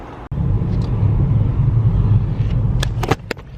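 Steady low car rumble from inside a vehicle sitting in standstill motorway traffic near Cardiff, a constant engine-and-road drone, with a sharp click early on and a few brief knocks and squeaks near the end.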